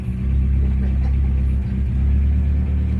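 Honda Accord engine running steadily right after starting, a loud close low rumble that stays even for a few seconds, rough and slightly misfiring with an empty common rail.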